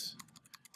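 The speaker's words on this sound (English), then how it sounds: "Okay, so I have it at 12, and if I type like Chris," Computer keyboard typing, a short run of about seven crisp, quiet keystrokes at an uneven pace, heard close and alone.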